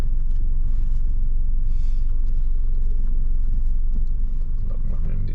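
A car reversing slowly during a three-point turn on a driving test, its engine a steady loud low rumble heard from inside the cabin, with a voice talking over it.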